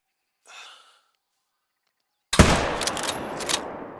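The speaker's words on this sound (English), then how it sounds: "So I'ma shoot him to figure that out." A single sharp rifle shot at a crocodile in the hunting game theHunter: Call of the Wild on the Emerald Coast map, a loud close crack with a ringing tail, after a soft breathy exhale and a stretch of near silence.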